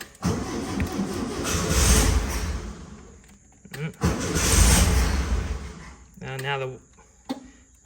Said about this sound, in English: So we'll start it right up, turn the key.